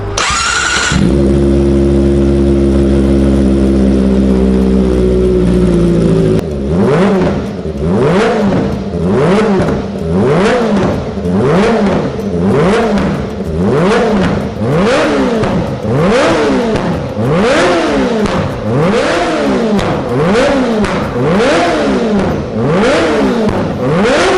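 A Kawasaki Ninja ZX-25R engine with an aftermarket exhaust idles briefly, then the loud, throaty exhaust is blipped in a steady rhythm, roughly once per second, rising and falling again and again.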